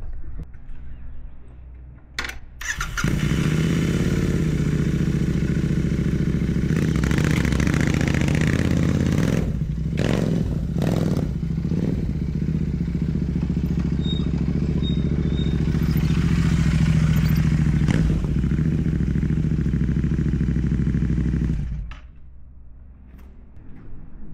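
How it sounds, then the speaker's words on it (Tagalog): A motorcycle engine starts up and idles with a steady rumble at a campsite, revving briefly and clattering, then cuts off near the end. "So guys, paparking ko lang yung motor dito"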